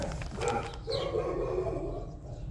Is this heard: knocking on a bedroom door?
no